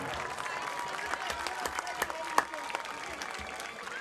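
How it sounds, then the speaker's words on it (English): Steady applause from a crowd, dense clapping continuing throughout with a few sharper claps standing out. "Would you give those guys a big round of applause?"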